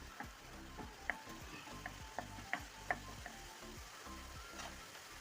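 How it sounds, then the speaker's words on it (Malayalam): Curry leaves and crushed onion are stirred into beef in a hot pan, with a steady close sizzle of frying under repeated scraping and clicking strokes of a spoon against the pan. "ഇതൊന്ന് നല്ലവണ്ണം ഒന്ന് ഇളക്കി കൊടുക്കാം."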